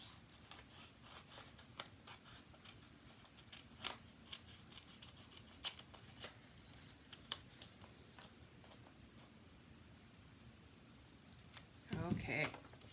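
Scissors snip and trim paper cardstock for a z-fold card in a craft room, giving quiet, close, irregular cuts and rustles spread across the stretch, ending in a louder burst of handling near the end.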